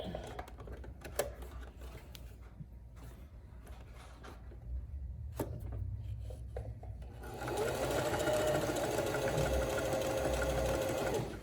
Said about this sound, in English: I am doing this with a zigzag stitch.